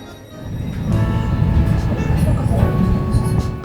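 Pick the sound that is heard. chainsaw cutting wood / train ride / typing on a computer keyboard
train ride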